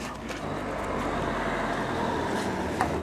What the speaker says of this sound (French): Et évidemment les voitures arrivent.